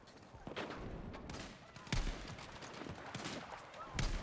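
Sniper rifle gunfire in the video game Battlefield 6, with sharp shots standing out near 0.6, 1.9 and 4.1 seconds over a busy background of distant battle noise.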